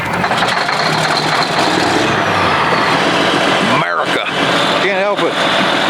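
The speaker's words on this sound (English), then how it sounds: "Every time I hear that cat engine roar to life, just America." A Caterpillar D8 bulldozer's heavy diesel engine rumbles loudly and steadily nearby, with a person speaking briefly over the noise.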